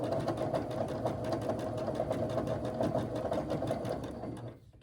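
A sewing machine stitches over a quilt block seam with a fast, even mechanical chatter, close and steady for several seconds before easing off at the end, with no talk.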